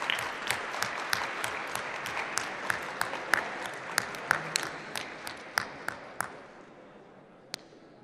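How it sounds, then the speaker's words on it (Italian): An assembly audience at a diocesan gathering claps with sparse, distinct hand claps spaced across the room that thin out and stop near the end, with no voices over them. "Possiamo fare anche un applauso"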